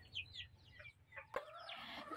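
Chickens cluck softly nearby in a farmyard as they gather for food of steamed cassava, with several short calls and a sharper squawk over a low outdoor background.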